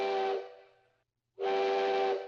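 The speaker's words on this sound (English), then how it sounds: "He blows the whistle as a warning. 3 toots to say he's backing up." A steam locomotive whistle sounds two loud, sustained blasts separated by about a second of silence. The first fades out slowly, and the second starts abruptly and holds steady, with a breathy hiss under the tone.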